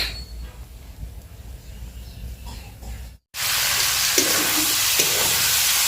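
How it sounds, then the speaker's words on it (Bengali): Meat cooking in a pot over a wood-fired clay stove, a steady close sizzle and hiss that jumps louder and brighter partway through, with occasional stirring scrapes and no talking. "এই যে এখানে আমি বানিয়ে নিচ্ছি মাংস"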